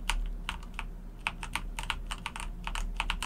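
Computer keyboard keys tapped at a desk during a game-effects tutorial in Unreal Engine 4, a run of quick, light clicks in irregular clusters, close and fairly quiet, with no talking.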